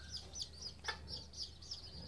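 Chickens in a home yard cluck softly and repeatedly at a moderate distance, a steady run of short calls over quiet background with no speech.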